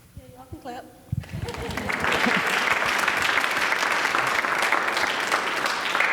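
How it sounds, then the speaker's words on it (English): Audience applause at a lecture-style community evening event, rising after a speaker's brief remarks into loud, sustained clapping that fills the room for several seconds. "y'all can clap."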